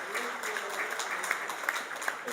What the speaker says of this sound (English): Once again, let's give all 3 teams another round of applause.